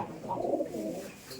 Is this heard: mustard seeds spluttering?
no